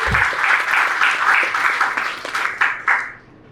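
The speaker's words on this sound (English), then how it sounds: "a loud round of applause for all the candidates" A crowd applauds loudly and steadily for a few seconds, the clapping thinning out near the end.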